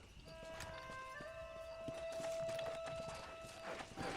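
A horse gallops in Red Dead Redemption, its steady clip-clop hoofbeats running under a sustained musical drone of game soundtrack, moderately loud throughout.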